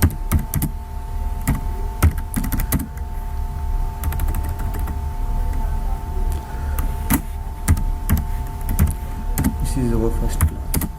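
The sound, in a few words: typing text on a computer keyboard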